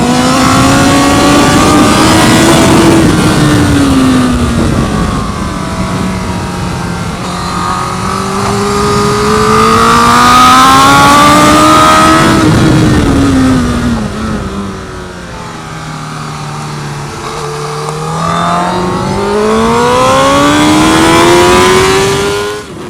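Suzuki GSX-R 1000 motorcycle engine, loud and close, revs up and down in slow sweeping waves, its pitch climbing and falling repeatedly for over twenty seconds.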